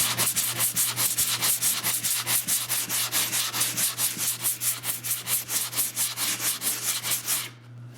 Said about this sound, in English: sand a bit, then give her a feel, then sand a little bit more